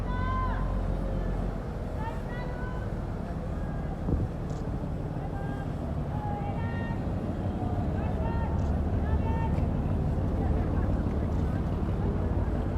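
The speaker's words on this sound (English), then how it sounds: "Another beautiful fishing boat coming out behind here. We'll listen to the engine as it goes through." A fishing boat engine drones steadily under wind and water noise, with faint calls in the distance, rumbling continuously as it passes.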